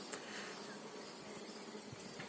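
Honeybees buzz steadily over a hive frame of brood and eggs during colony splitting, a close, continuous insect hum with no talk.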